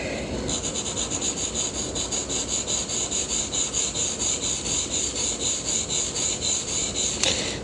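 A fountain pen nib is ground by hand to a fine italic, giving close, steady rhythmic rasping strokes against an abrasive surface with no talk.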